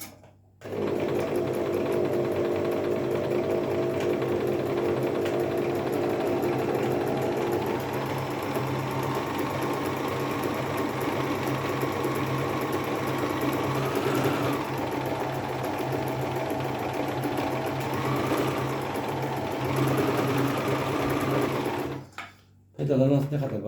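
A Singer Promise 1412 sewing machine runs a half-moon crescent stitch pattern, its motor whirring steadily and close up for about twenty seconds before stopping, with a brief restart at the end.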